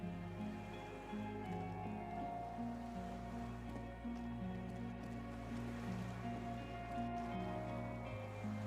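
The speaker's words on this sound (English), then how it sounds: "The skiff is swaying on the waves by the..." A skiff sways on waves in Disco Elysium, with steady water wash and lapping under a sustained, droning ambient music bed.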